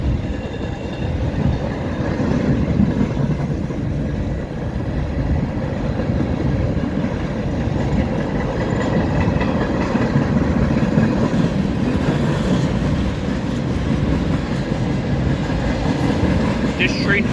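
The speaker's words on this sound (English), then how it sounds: "This train has some AIM" Freight train of hoppers and boxcars rolling past at Milepost 75 on the Dundas Sub near London, Ontario, a loud, close, continuous rumble with rhythmic wheel clatter across the whole stretch.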